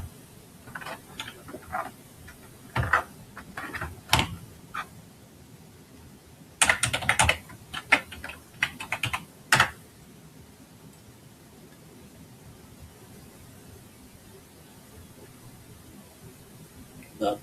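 A password tapped out on a computer keyboard: scattered bursts of key clicks, some quick runs and single presses, over a quiet room hum, then a long stretch of near silence.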